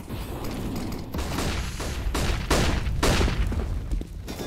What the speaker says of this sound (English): So many flashbangs. It was like a symphony.